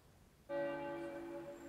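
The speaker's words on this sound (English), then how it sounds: "The chiming of the bells is a normal sound for those walking into the ELN Community Church" Church carillon bells chime downtown at a community church, a sudden onset of sustained ringing tones that hold steady and resonant, moderately loud with no talk over them.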